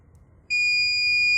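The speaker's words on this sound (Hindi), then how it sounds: "सेट करने के बाद में मीटर की दोनों प्रॉप को हम आपस में" A digital multimeter set to its continuity buzzer range gives a loud, steady electronic beep that starts abruptly when the two probes touch and holds without a break to the end.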